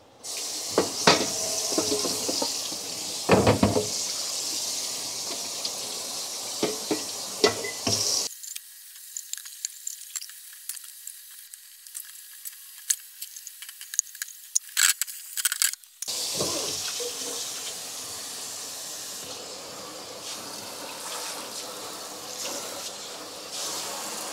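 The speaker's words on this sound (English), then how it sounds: "I can show you just cleaning up with the sink and how much of a joy it is" Water from a faucet runs into a workstation kitchen sink during cleanup, with a steady rushing spray that cuts out for several seconds midway, while dishes clatter, before the flow resumes strongly and continues to the end.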